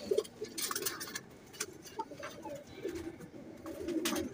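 Soft cooing of a young teddy pigeon, a few low murmured coos repeating quietly at close range with faint rustling and ticking around it, no voices.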